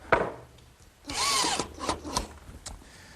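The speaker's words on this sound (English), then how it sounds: "so I'll just fasten a screw to the center of the post" A power drill drives a screw into the centre of a wooden bed post, giving a sharp initial burst, a sustained whirring run and a few short trailing spurts and clicks, close and alone.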